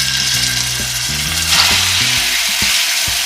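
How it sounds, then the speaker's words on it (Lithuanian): Meat frying in a pot of generously heated oil for plov, a steady loud sizzle running throughout with faint clanks of a utensil against the pot. "Taigi dabar į puodą įpilsiu daug aliejaus, aišku jo nepagailėkite ir gerai jį kaitinsiu. Sudedam mėsą."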